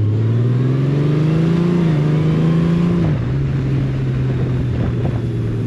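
A semi-automatic motorcycle engine revs up high after a manual downshift, its pitch climbing and then dropping as it settles into a steady drone, loud and close without speech.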